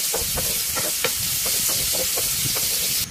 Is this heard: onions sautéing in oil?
yes